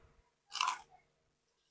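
Crispy fried pork ear crunched between the teeth, one loud close bite in near silence, followed by the start of another.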